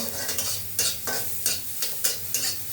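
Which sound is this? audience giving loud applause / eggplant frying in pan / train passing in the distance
eggplant frying in pan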